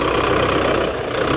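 A Belarus 510 tractor engine runs steadily close by, with a loud, continuous mechanical rumble and faint knocking texture and no voices.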